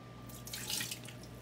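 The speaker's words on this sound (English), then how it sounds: "Fill it with water." Tap water running into a bottle, a quiet continuous splashing trickle that rises slightly in the middle, close by over a faint steady hum.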